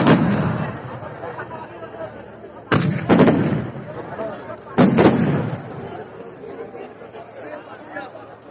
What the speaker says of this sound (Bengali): ইলেকট্রিক পদ্ধতিতে রিমোট কন্ট্রোলের মধ্য দিয়ে এই আতশবাজি প্রদর্শিত হচ্ছে